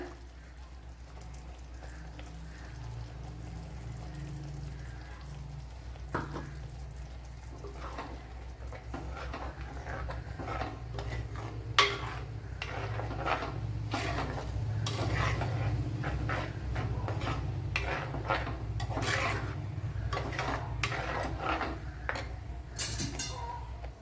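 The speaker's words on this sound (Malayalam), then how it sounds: "ഇനി അരച്ചു വെച്ചിരിക്കുന്ന അരപ്പ് ഒഴിച്ചു കൊടുക്കുക." Ground spice paste goes into a hot pan for a mackerel curry, with a steady close sizzle and repeated scraping and stirring clatter that grows busier as the paste fries.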